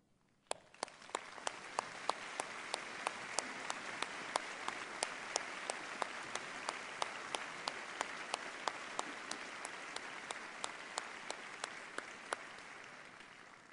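A large graduation convocation audience applauds steadily in a hall, a dense, even wash of many clapping hands with a few sharper individual claps standing out, continuing from start to finish without talk.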